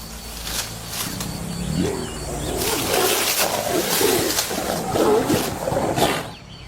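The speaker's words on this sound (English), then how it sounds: "the second tiger stalks in for a closer look" Young female tiger in the wild, producing low grunting and rumbling vocal sounds close by over a continuous outdoor ambience with faint birdsong.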